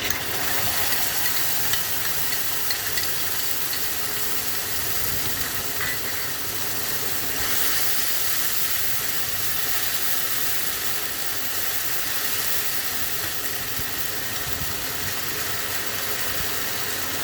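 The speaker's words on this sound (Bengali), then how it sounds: "পেঁয়াজ টমেটোটা বাটা আছে সেটা দিয়ে দিলাম" Onion-tomato paste cooking in hot oil, a constant hissing, steamy sizzle with soft stirring, steady and close for the whole stretch.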